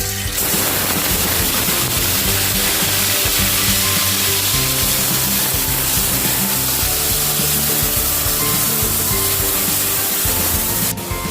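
Onion, green chili and ginger-garlic paste hit a hot pan for Rajasthani besan gatte, giving a loud, steady broadband sizzle that holds unbroken for about eleven seconds with no talking.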